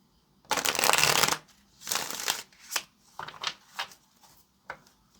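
Close, soft riffle of tarot cards shuffling in a strong opening burst, then a second burst, trailing into lighter taps and flicks as the deck is squared.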